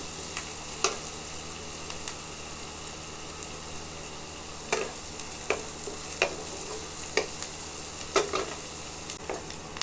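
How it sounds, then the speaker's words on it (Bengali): Onions frying in a pan for a jackfruit-seed mash, a steady hiss of sizzling oil with a few scattered sharp clicks and taps from stirring, moderately quiet and with no talking. "পেঁয়াজটা একটু ভালো করে ভেজে নেব।"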